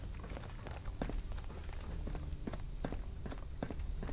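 Steady, fairly quiet footsteps of a ghoul in Fallout 4, a string of irregular scuffing steps over a dull ambient hum.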